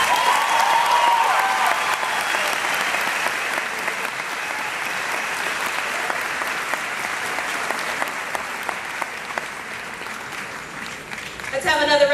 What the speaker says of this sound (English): Let's have another round of applause for NFL career Wray Summers.